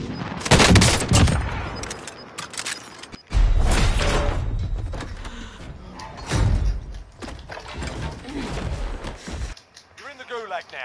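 Stoner machine gun firing in Call of Duty Warzone, in loud sustained bursts with brief breaks, with a voice talking over the gunfire.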